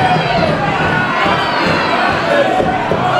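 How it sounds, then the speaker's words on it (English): A wrestling crowd at an independent show roars and cheers loudly and steadily, a dense wall of voices with shouts mixed in and no pause. "This crowd rocking for these 2 former Kush members right now"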